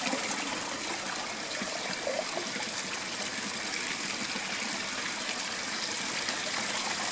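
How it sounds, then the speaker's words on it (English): Small waterfall or stream in the Blue Mountains bush, water flowing steadily with a continuous, fairly close rushing and trickling wash and no voices. "anywhere that you can get a little bit of a waterfall or a nice stream where it's flowing"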